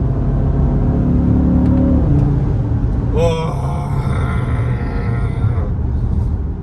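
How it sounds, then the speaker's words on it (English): An Audi RSQ3 with a dual clutch gearbox rumbles loudly inside the cabin as it accelerates, the tone shifting with gear changes and rising whine midway. "Oh, and the pops and the between gear changes because of the dual clutch."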